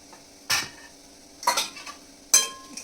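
Red chilli powder, turmeric and coriander powder being stirred in a pan for a wheat kurdai vegetable dish, heard as three separate scraping stir strokes with a utensil against the pan, with quiet pauses between them.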